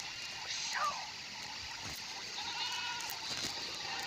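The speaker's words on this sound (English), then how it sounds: "But these sheep are eating all the apples." Sheep bleat in the Skylanders Spyro's Adventure video game, a short wavering cry standing out over a steady bed of in-game music and ambience, with a few faint clicks and swishes around it.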